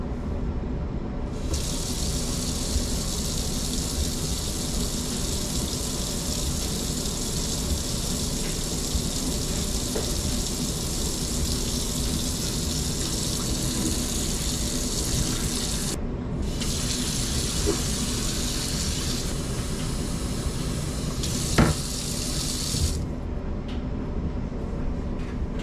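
Water from a first boil being poured out into a kitchen sink, a steady close rushing splash that runs continuously, pausing briefly twice before resuming, with no voices.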